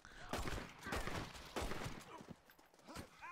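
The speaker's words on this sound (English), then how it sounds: "Volcanic pistol." Volcanic pistol shots in Red Dead Redemption, several sharp reports in a quick irregular sequence, fairly quiet overall and mixed with a player's voice.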